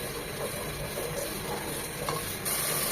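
Spices for beef korma are stir-fried in a pan, making a steady, moderate sizzle and hiss with faint stirring scrapes and no talk.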